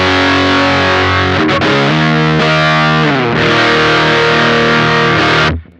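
An electric guitar chords through a Champion Leccy fuzz pedal with low bias, thick and saturated yet fairly smooth, several sustained strums before the sound cuts off abruptly.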